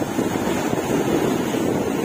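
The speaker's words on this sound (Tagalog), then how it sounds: "Alon." Sea waves washing ashore at Barangay Bilaran, Nasugbu, Batangas on a rough, rainy-season day, a continuous loud roar of surf mixed with wind buffeting the microphone, with no voices.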